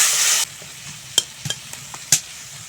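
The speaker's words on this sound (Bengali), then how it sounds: "এখন একটু জল দিয়ে মশলা ভালো করে কষিয়ে নেব" Ground spices with a splash of water sautéed in a pan for a mushroom dish: a loud hiss as the water hits, then scattered scrapes of a stirring spoon over a soft sizzle.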